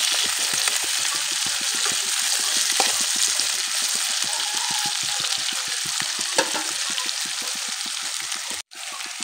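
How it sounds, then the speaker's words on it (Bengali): Potatoes, chopped chilies and onion sizzle steadily in a hot pan in a village kitchen while being stirred, with a continuous close fry hiss broken by rapid scraping strokes and one brief pause near the end; no one talks. "একটু ভালোভাবে লাড়াচাড়া করতে লাগবে।"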